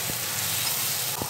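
Spice paste with ground coriander and turmeric frying in hot oil for a vegetable dal, a steady close sizzle and hiss with a couple of faint stirring knocks.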